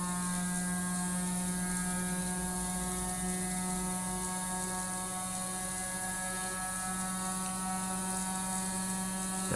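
Gyroscope motor spinning up to speed, around 8,000 to 9,000 RPM, giving a loud, continuous, steady whine with layered tonal hum that holds throughout.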